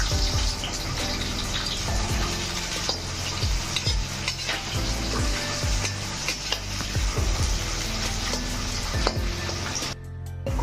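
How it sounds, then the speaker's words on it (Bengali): Bitter gourd fries in oil while being stirred, a loud, steady sizzle broken by repeated scraping and clattering strokes of a spatula against the pan, close up and without speech. "বেশ খানিকক্ষণ নেড়ে ছেড়ে উচ্ছেগুলোকে লালচে করে ভেজে এবার তুলে নেওয়া হচ্ছে।"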